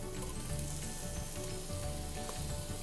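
Crushed ginger and garlic fry with onions in a pan for an egg biryani, giving a steady, soft sizzle with occasional stirring scrapes and no voices.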